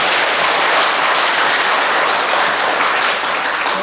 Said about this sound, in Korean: 박수 한번 해드리겠습니다.